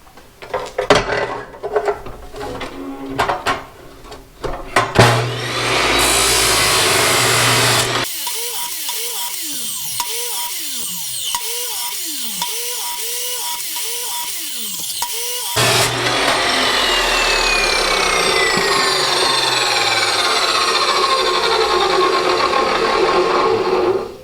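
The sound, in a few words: power tool chopping wood pieces for snowman arms and fingers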